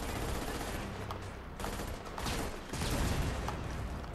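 Gunfire in the co-op shooter Army of Two, rapid bursts of shots fairly close in a dense, noisy game mix, with faint voices in the background.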